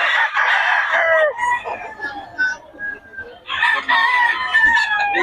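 Roosters crow loudly and close by, two long drawn-out calls with a short lull between, over a background of hens clucking.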